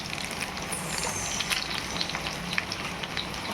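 Spices tempering in hot oil with asafoetida, onion, curry leaves and chillies, a steady loud close sizzle with crackling pops throughout, no voices.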